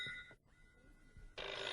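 A telephone rings indoors in a home drama scene: a short ringing burst, a brief pause, then the bell resumes loudly, close by and clear, with no voices.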